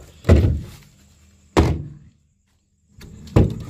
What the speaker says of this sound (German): Machen wir Tür zu